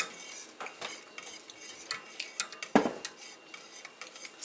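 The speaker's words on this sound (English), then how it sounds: "Maya's just going to keep this moving in the pan, because we don't want it to burn" Chocolate pie filling stirred in a pan on the stove, a close run of quick metallic spoon scrapes and clinks with one sharp knock partway through.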